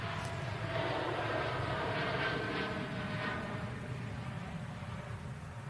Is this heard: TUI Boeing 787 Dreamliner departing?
yes